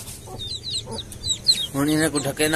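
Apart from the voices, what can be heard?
chickens clucking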